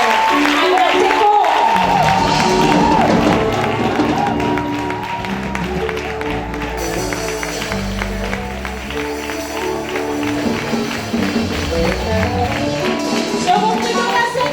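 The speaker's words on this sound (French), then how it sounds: "je vous prie d'ovationner, d'applaudir très fort à notre icône." An audience at a tribute ceremony for a singer applauds and cheers, a dense steady clapping of a crowd, with music and a person speaking over it.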